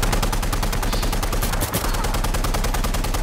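Rapid automatic gunfire rattles loud and continuous in a military shooter game, a dense string of evenly spaced shots with a heavier blast near the middle.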